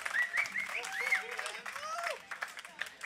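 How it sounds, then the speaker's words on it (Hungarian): A concert audience at an outdoor festival claps and cheers for a Hungarian band. Dense applause runs throughout, with whoops and shouting voices rising over it. "Köszönöm, óriási a taps."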